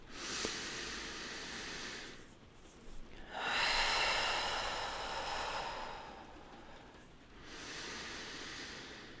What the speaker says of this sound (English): take 3 nice deep breaths with me